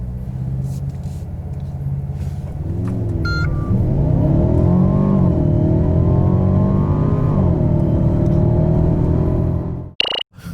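Mercedes CLA 250 4MATIC accelerating, its engine rising in pitch through rising and shifting tones as it pulls hard, loud and close from the cabin, ending in a short clunk.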